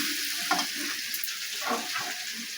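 Boiled cabbage goes into a pan of potatoes fried until soft, producing a steady, close sizzle broken by repeated scraping and stirring bumps.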